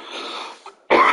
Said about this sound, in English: Sorry, a bit of a cough there.